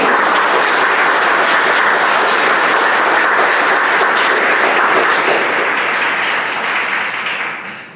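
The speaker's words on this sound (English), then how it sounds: "give a really warm round of applause to Sahar" An audience at a ribbon-cutting ceremony for Penn State Scranton's engineering building gives a warm, sustained round of applause, loud dense clapping that holds steady and then tapers off at the end.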